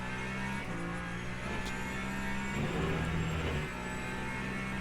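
Ferrari and Peugeot race cars lap Silverstone, their engines a steady droning hum that shifts in pitch midway, heard at moderate distance without any voices.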